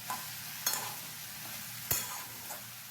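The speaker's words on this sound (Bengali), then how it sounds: "ঝিঙেগুলো দেওয়ার পরও আলুর সাথে বেশ ভালো করে কিছুক্ষণ একটু ভাজা ভাজা করে কষিয়ে নিতে হবে" Ridge gourd and potato stir-fry in a pan for a Birbhum-style jhinge posto, with a soft continuous sizzle broken by four sharp spatula scrapes and clacks at uneven intervals.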